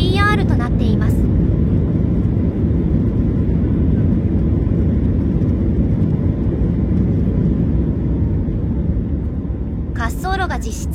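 Indian Air Force Boeing 777-300ER landing on runway 27 at Indira Gandhi International Airport, Delhi: a steady, loud broadband jet roar sustained throughout, with brief voices at the start and end.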